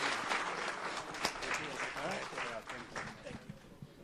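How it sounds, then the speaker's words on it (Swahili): An audience at a fundraising gathering for a football club claps in a dense, continuous burst of applause, fairly close and steady for a few seconds. "Tafadhali, simama na makofi tafadhali."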